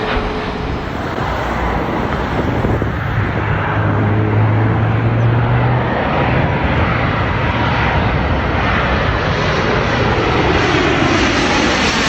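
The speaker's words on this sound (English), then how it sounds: "United Airlines. It's the Boeing 777-200, and that is arriving from the west coast from San Francisco." A United Airlines Boeing 777-200 jet arriving at London Heathrow from San Francisco gives a loud, continuous engine roar with a low rumbling drone that stays strong throughout, with no talk heard.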